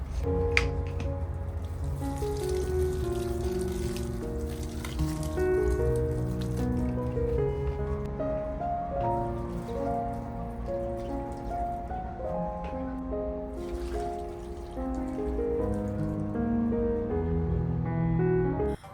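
Water poured onto potted plants on a home balcony. A continuous soft splashing and patter runs throughout, mixed with steady melodic tones in the background.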